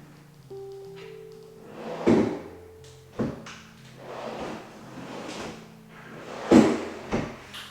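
Deep drawers without soft close slide open and shut several times, each ending in a loud wooden thunk, with rolling rumbles as they travel, close by and with no talk.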